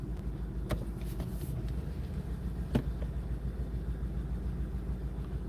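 A 2010 Honda Accord with a 2.4L engine runs with a steady, low mechanical drone. Faint irregular ticks and a couple of brief pops break through, suggesting a mild sputter close by, with no talking.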